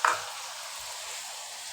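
Spices sauté in a pan for an egg curry, a continuous close hiss of frying with a soft stirring knock at the start, and no talking.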